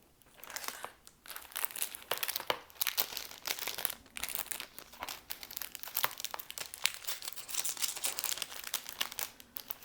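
Paper is crinkled and crushed close up, with continuous crackling rustles and sharp crunches for several seconds, no voices.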